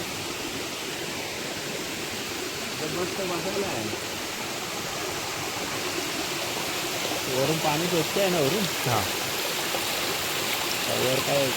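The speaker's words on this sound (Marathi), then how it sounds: "हा आपल्या वाडीतला एकदम जवळचा धबधबा आहे" A small village waterfall and stream in the monsoon rush with a constant, full roar of flowing water, while people talk over it.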